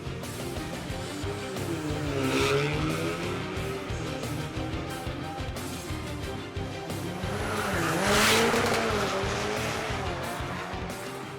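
Cars at a drag race event rev and accelerate hard, their engine tones climbing and falling in sweeping waves, with tire squeal and a roaring surge that peaks twice before easing off.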